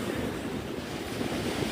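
Ocean surf rolls steadily onto a beach under double red flag conditions, a continuous broadband wash of waves with wind buffeting the microphone, fairly loud and close, no voices.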